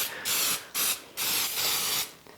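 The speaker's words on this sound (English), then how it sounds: "First thing I'm gonna do is spray my pan" Cooking spray hisses into a loaf pan in three short bursts, each about half a second long, with brief gaps between them. The spraying is close and loud, and no voices are heard.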